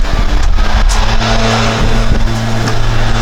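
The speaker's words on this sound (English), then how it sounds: "there's a marathon leaf blowing session going on across the street" A leaf blower running across the street makes a loud, steady engine drone that holds without a break from start to end.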